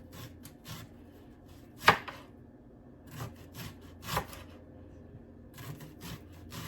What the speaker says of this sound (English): I'm just going to slice these into thin slices